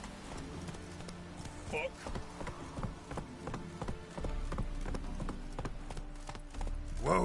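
Horse hooves from Witcher 3 clip-clop in a quick, steady rhythm throughout, with a voice briefly speaking over them.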